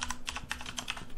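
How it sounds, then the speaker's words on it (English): Quick keystrokes on a computer keyboard while entering a localhost address in a browser, a close, even run of light clicks with no talking. "and type localhost"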